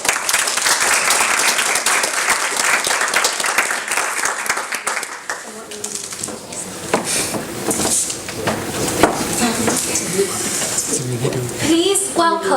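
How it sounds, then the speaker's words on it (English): An audience applauds at an academic event about Thailand, the dense clapping loud and steady at first, then thinning into scattered claps, murmurs and room noise. "Would you please give a round of applause for Puey"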